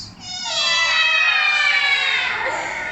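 A voice imitates a cat with one long, drawn-out, rising-and-falling meow, loud and close.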